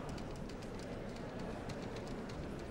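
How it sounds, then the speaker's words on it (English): Inside a train carriage in the Demon Slayer: The Hinokami Chronicles video game, a steady rumbling roar of rolling wheels fills the space, with faint rhythmic clatter layered over it and no talking. "So this is what a train is like."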